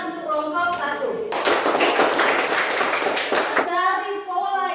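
In a classroom mathematics lesson, students break into a burst of clapping for a group that has just presented, a dense clatter lasting a couple of seconds, with children's voices and talk before and after it.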